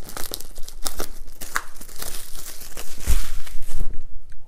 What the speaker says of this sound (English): Away goes the plastic